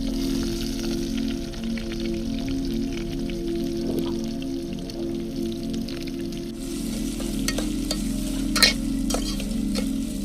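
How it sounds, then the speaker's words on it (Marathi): Onion fries with whole spices in a pan at an outdoor village-style cooking spot, hissing steadily and closely while a utensil stirs and scrapes with scattered clicks. "मित्रांनो कांदा फ्राय होतोय"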